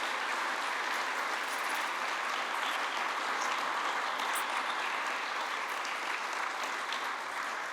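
A local gathering in Ormož applauds the Ministry of Economy, Sport and Tourism, with steady, even clapping from a large crowd sustained for several seconds at moderate distance.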